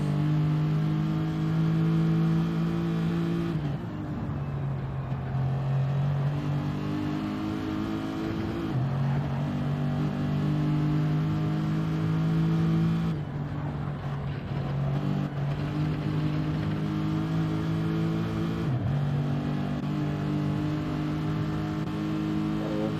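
Race car engines roar in a Le Mans sim racing game, loud and continuous, with the pitch climbing through the gears and dropping at each shift several times, no talking.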